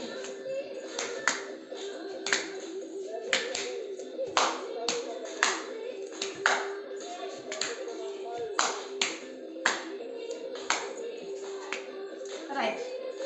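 Hands clap in steady repeated beats during a yoga teacher training exercise. The claps are crisp and fairly close over a constant tonal background hum.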